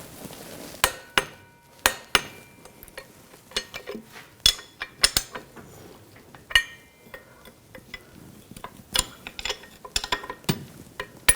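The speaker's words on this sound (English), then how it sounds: "Now I'm going to go around again and torque these to 65 foot-pounds." A torque wrench tightens the driveshaft coupler bolts on a 2000-2006 BMW X5 to 65 foot-pounds, making sharp metallic clicks and clanks at irregular intervals, close and distinct, with small handling noises between.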